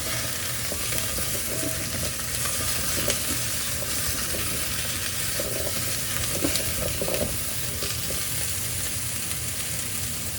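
Vegetables stir-fry in an unwashed Instant Pot still coated from searing oxtail for a red wine stew, producing a loud, continuous close sizzle with faint stirring, no voices.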